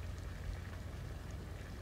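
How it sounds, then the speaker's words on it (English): Rain falling outdoors in Falmouth, a steady soft patter of drops, faint and even with no talk. "it's raining in Conroe in Falmouth"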